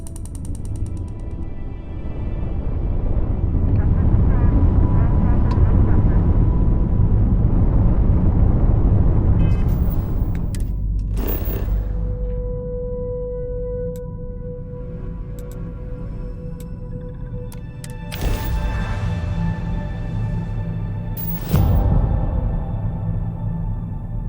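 Spaceship touching down in the video game Starfield, a loud rumbling engine roar that fades into mechanical clanks, hydraulic whirs and a few sharp metallic bursts as the craft settles.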